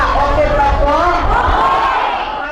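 Residents of Ormoc gathered in a basketball court cheer and wave as volunteers arrive, a loud, steady swell of crowd voices and shouts holding throughout and easing slightly at the end.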